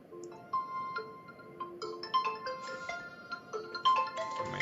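A phone ringtone plays a bright, stepping electronic melody of short tonal notes for several seconds, moderately loud and clear against near silence.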